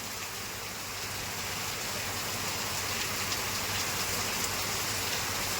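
Heavy monsoon rain pours down with wind, a dense, constant roar of water that stays loud and even throughout, with no voices.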